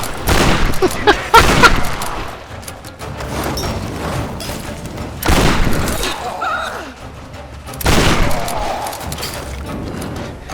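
Shotgun blasts in a video game, loud close booms repeating in irregular bursts with reverberant tails, separated by brief lulls.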